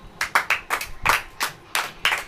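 Audience clapping during a Hindi church sermon: about eight distinct, fairly close claps in an uneven rhythm, with no speech over them.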